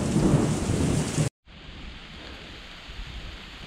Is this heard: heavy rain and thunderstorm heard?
yes